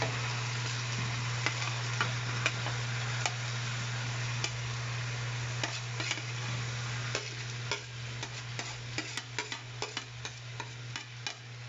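Rice stirred in a frying pan for kimchi rice: a steady soft sizzle over a low hum, with scattered scraping taps from the spoon growing more frequent toward the end.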